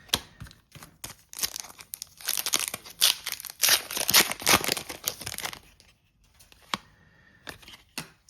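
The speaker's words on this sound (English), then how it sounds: "watching some hockey cards get open" Packs of Tim Hortons hockey cards are torn open by hand, with close crinkling foil wrappers, sharp tearing bursts and quieter handling gaps between, irregular and without speech.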